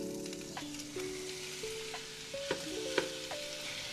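Two pounds of slightly frozen ground beef brown in hot oil with a steady sizzle and occasional scraping stirs, while soft tonal music runs underneath.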